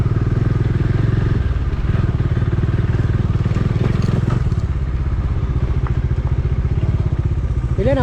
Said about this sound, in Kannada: ಬೈಕ್ ಹೋಗ್ತಿದ್ದಾವೆ, ಕಾರ್ ಹೋಗಲ್ಲ.